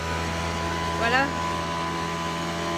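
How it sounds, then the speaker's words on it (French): A constant mechanical drone from landscapers' leaf-clearing machine hums in the background, like a motorized garden blower running nearby, while a person says a single short word over it. "les paysagistes qui sont en train de nettoyer l'excédent de feuilles"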